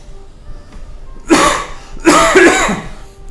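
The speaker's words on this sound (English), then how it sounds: "it is possible I am coughing too much still" Two short, harsh coughs close to the microphone, about a second apart, the second one longer and throatier, with near silence before them.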